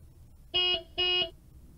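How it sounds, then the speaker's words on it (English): Two short, evenly spaced horn honks from a little car, played by a home AI assistant, bright and buzzy against a quiet background. "Imitate a little car."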